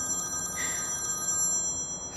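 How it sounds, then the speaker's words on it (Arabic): A mobile phone rings with a steady electronic tone that pulses over a low background hum, continuous through the moment and fairly distant. "موبايلك عم بيرن"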